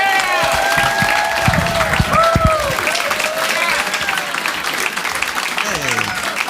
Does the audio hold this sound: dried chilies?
no